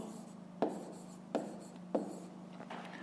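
A pen or pencil writes out a 5th-grade math exercise solution on paper, with soft, faint scratching strokes and three distinct taps at regular intervals, close by in a quiet room.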